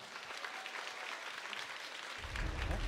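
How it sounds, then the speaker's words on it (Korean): An audience at a Cyphers 8th anniversary event applauds steadily, a dense wash of clapping that swells a little louder toward the end. "여러분 큰 박수 부탁드립니다"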